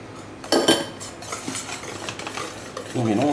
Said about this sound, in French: On mélange énergiquement.